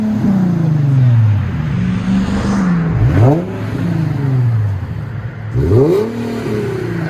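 A 2011 Infiniti M37 with a 3.7-litre V6, dual exhaust and rear muffler delete, revved hard in two rising-and-falling bursts over a loud, deep idle, close to the tailpipes.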